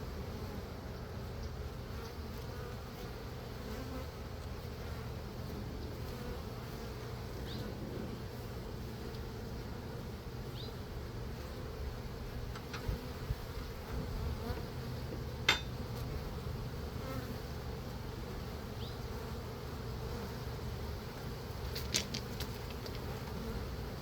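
Honeybees buzz at an open hive during an inspection, a soft continuous hum that holds steady throughout, with a few faint clicks and knocks of frames being handled.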